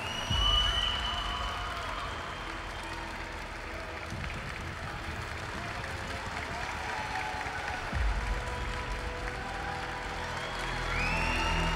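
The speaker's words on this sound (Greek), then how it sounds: "Λοιπόν, ξεκινάμε το χειροκρότημα." Audience applause at a live gaming event, steady dense clapping from a crowd that carries on throughout, with a couple of louder thumps.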